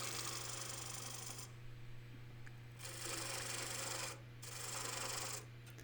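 A lathe tool cuts and rubs along the rim of a wet live-edge wood bowl, giving rough scraping bursts in several passes over a steady low motor hum, with no talk.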